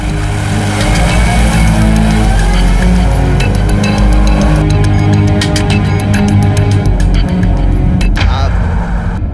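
A car reverses with tyres skidding, its engine loud and continuous throughout, with brief sharp scraping bursts near the end and voices talking over it.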